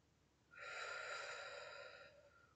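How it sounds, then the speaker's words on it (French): A single deep breath, one long, steady, close airy exhale lasting about a second and a half, alone against a faint background hum. "Inspire, expire."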